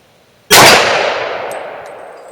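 Single loud shot of a 9x25 Dillon round from a Glock 20 pistol, a sharp sudden crack followed by a ringing metallic decay that fades over two seconds, with a few faint ticks after.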